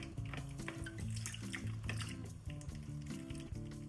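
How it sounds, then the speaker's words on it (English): Running water rinses a grater clogged with leftover fresh corn and carrot, the water to be used for corn soup; a steady, close wash of flowing water plays continuously without talk. "I like to rinse the grater with the water that I'm going to cook"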